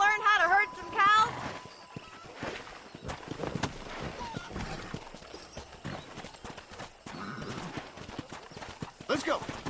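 Horse hooves clip-clop in a rhythmic gallop in the video game Red Dead Redemption, moderately loud and mixed with a brief whinny, game music and speaking voices.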